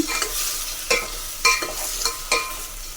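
A spoon stirs drumsticks through a soft tomato curry, with five or six scraping strokes at a steady rhythm over a low background sizzle, close by and without talk.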